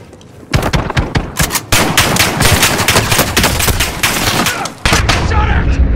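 Rapid automatic gunfire in Call of Duty: Warzone on Rebirth Island, dense loud bursts of shots that start suddenly and continue almost without pause, with a brief break near the end before firing resumes.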